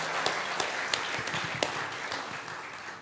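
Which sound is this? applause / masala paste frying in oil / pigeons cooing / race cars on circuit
applause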